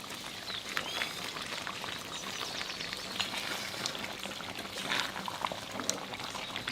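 Milk is poured into a roast curry on the stove, giving a soft steady liquid pour with faint bubbling and sizzle, continuous and low in level.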